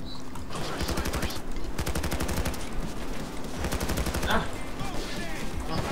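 Heavy gunfire in the Payday 2 video game, rapid automatic bursts and sharp shots crackling loudly and almost without pause, with a voice shouting briefly amid the shooting.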